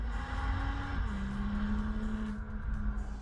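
A BMW M2 engine with a deep, spectacular note, a steady loud drone that dips briefly in pitch as if shifting, then holds a low even tone, close up with no talk.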